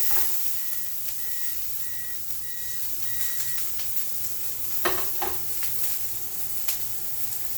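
Onions, carrots and poblano pepper sizzling in a pan on high heat, a constant close hiss with occasional stirring scrapes and a few faint electronic beeps early on.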